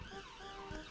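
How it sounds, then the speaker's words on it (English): Ambulance siren in the Cities: Skylines city-building game, a steady wailing tone at moderate loudness over a continuous background hum of game ambience, with no speech. "Ambulance."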